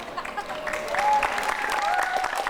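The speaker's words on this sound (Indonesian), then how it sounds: "Kalau setuju boleh tepuk tangan." An audience of children claps steadily at an indoor event, the dense patter continuing throughout with bright whistle-like tones and faint voices rising above it.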